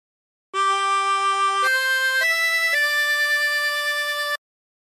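A 16-hole tremolo harmonica plays a short phrase of the hymn Nearer My God to Thee, four steady held notes with a shimmering tremolo, clear and close against silence.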